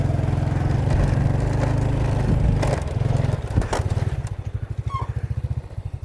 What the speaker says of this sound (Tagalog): Hirap na hirap yung motor natin